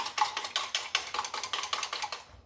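A whisk beats egg whites in a bowl for cookie batter, a steady quick rhythm of about four strokes a second, each one a bright clatter against the bowl, loud and close with no talking.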